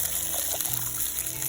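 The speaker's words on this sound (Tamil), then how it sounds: "அது கூடவே தண்ணி கொஞ்சமாக ஆட் பண்ணி" A little water goes into a pan of egg gravy over frying onion-garlic paste, a brief watery splash and bubbling blended into a steady close sizzle.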